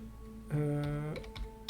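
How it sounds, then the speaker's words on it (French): A few sharp computer keyboard clicks from someone trying shortcuts while playing The Forgotten City, scattered over steady sustained game tones. "J'essaie un peu les raccourcis clavier."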